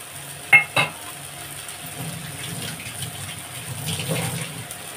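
Two quick knocks of a spoon against a pan, then a soft, low sizzle and stirring as ground spice paste cooks with potatoes, fairly faint and close.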